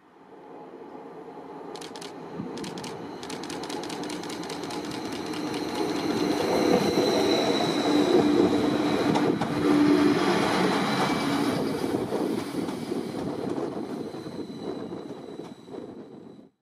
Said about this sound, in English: Here we are at Dis, where one of the Stadler Class 755 bi-mode units is on test